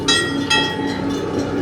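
Train at a railroad crossing near Six Flags Fiesta Texas, heard close by as a continuous rumbling roll with two brief louder surges, no voices.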